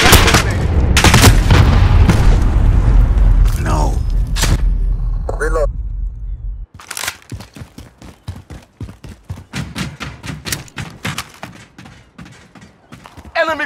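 A trench grenade explodes in the Modern Warfare video game during a Domination match on a bridge, a loud booming blast followed by rapid bursts of gunfire and shouted callouts from soldiers.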